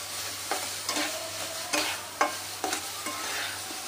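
A spoon scrapes through a thickening milk mixture for Mathura peda in a pan, with soft sizzling beneath and several distinct stirring strokes at an uneven pace, close and clear.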